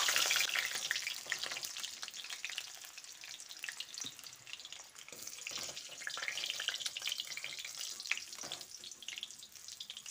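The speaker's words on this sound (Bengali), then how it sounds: "এবার আলুটাকে লালচে করে ভেজে নিচ্ছি।" Potatoes frying in oil until reddish, a faint crackling sizzle with scattered stirring scrapes, continuous and low in level with no voices.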